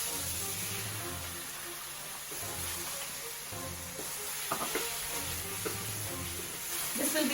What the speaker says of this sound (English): Now when the onion is nicely sauteed, let's add the remaining of the masala.